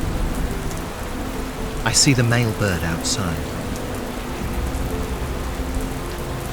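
Heavy rain pours steadily in the Western Ghats, a dense, even hiss that holds throughout, while someone speaks briefly partway through.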